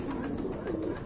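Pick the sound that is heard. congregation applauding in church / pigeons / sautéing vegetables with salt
pigeons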